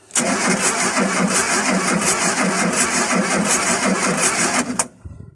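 An engine cranks steadily for about five seconds with a fast, even starter rhythm and never catches, then cuts off abruptly; loud and close, with no voices.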